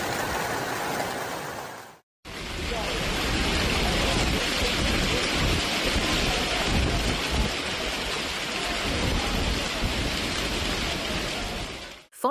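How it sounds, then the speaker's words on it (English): A heavy thunderstorm over Paris with intense rain and hail, a dense, loud, continuous roar of pelting precipitation that runs unbroken for about ten seconds after a brief cut near the start. "causing thunderstorms and severe hail"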